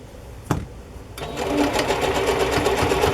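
A single click is followed by a sewing machine starting up and running fast and loud nearby, stitching around the outer edge of a quilt-square journal cover with a steady, rapid needle chatter.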